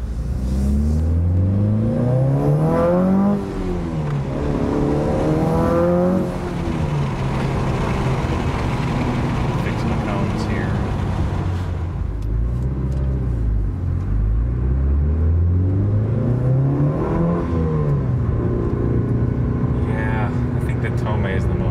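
A Mitsubishi Evo 8 with an aftermarket exhaust is revved repeatedly on and off the throttle, the engine note rising and falling in loud, close sweeps with a deep rumble, popping crackles as the revs drop.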